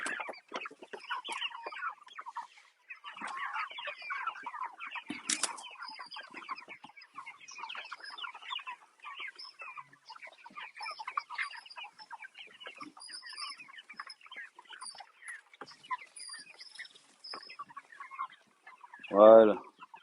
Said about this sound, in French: Et le poulet a toujours faim